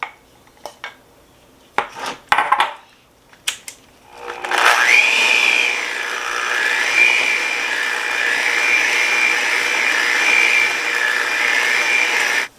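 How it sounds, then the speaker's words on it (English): An electric mixer beats flour into cookie dough for lemon curd filled Easter cookies, starting after a few clinks and knocks of bowl and utensils, then a steady, loud whirring drone that holds without pause. "And now I'm going to add all the rest of the flour and beat this until it's all combined well."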